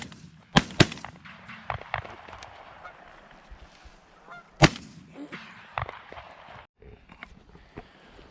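Shotguns fired at a flock of geese during an early goose season hunt in New York, several sharp close blasts spread out over the clip, with geese honking in between.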